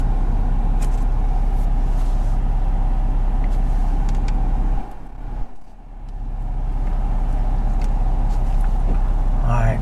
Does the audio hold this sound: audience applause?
no